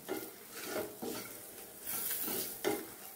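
Onion and tomato sauté in a pan, with a steady sizzle broken by rhythmic scraping strokes of a spatula against the metal, close and clear, no talking.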